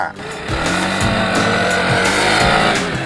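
A Vespa Sei Giorni II Edition 300 HPE scooter engine revving hard and accelerating, loud and close, with rising and falling pitch as it pulls away in quick bursts.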